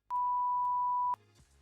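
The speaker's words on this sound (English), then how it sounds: "so I press the button and it beeps" A GoXLR audio mixer's novelty fun button gives off a single steady electronic beep lasting about a second, bracketed by short clicks from the button being pressed and released, with faint background noise.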